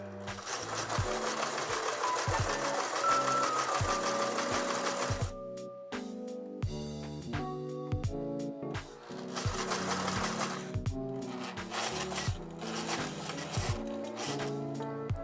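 An overlock sewing machine stitching along the edge of fabric, running in loud, steady whirring bursts with brief pauses and rhythmic mechanical clatter, close to the microphone.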